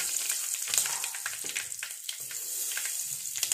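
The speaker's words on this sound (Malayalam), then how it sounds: "കടുക് പൊട്ടി അതിലേക്ക് കറിവേപ്പില" Mustard seeds pop and curry leaves fry in hot oil for a thoren, giving close, irregular sharp crackles and spits over a continuous sizzle.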